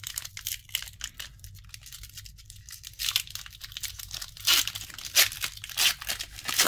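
Foil Lorcana Floodborn booster packs from a sealed case are ripped open one after another, giving loud, close bursts of tearing and crinkling wrapper with quieter handling between.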